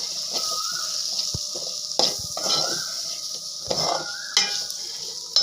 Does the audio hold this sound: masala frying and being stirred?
yes